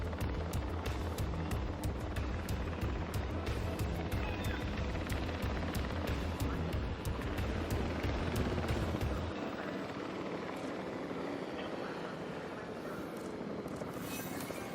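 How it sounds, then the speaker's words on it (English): A helicopter in Jurassic World Evolution 3 hovers close and loud, its rotor thumping in a steady rapid pulse for about nine seconds before the low beat drops away and a lighter whine carries on. "is the helicopter going to trank it or not?"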